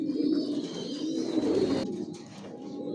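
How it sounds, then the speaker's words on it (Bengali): Racing pigeons in a loft, breeding and racing pairs, cooing softly and continuously nearby, with low, throaty calls overlapping throughout. "এখানে যে কবুতরগুলো দেখতেছেন, এগুলো মাস্টার পেয়ার, রানিং পেয়ার"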